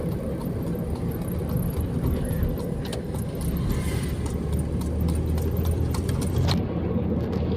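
Cars pass one after another on a busy road, a continuous traffic rumble with passing swells and occasional light metallic clinks, and no clear talk.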